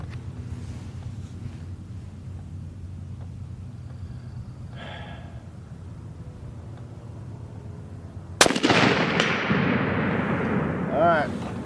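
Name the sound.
Sako 85L Grey Wolf 30-06 rifle shot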